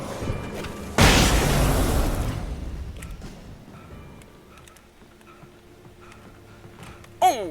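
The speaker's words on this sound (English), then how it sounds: "Throwing flashbangs." A flashbang grenade goes off in the video game Alan Wake with a single loud, broadband blast that rings out and decays over a couple of seconds, leaving a quieter background with faint ticks and a brief sharp pop at the end.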